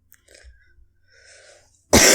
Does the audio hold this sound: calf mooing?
no